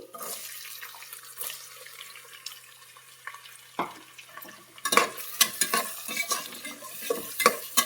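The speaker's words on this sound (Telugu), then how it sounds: "కచ్చపచ్చగా దంచుకున్న వెల్లుల్లి, ఇలా సన్నగా కట్ చేసుకున్న ఆనియన్స్ వేసుకోవాలి" Coarsely crushed garlic and thinly sliced onions go into a pan of tempering for a village-style vegetable curry, giving a faint sizzle with soft scraping stirs, then sharper clatters and stirring in the second half; no one speaks.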